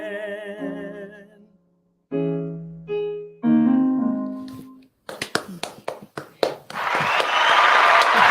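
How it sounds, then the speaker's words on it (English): Audience applause at an event celebrating Black culture, following sung or spoken tones; a burst of scattered claps builds into a sustained, dense round of clapping near the end. "Let me give the man some applause."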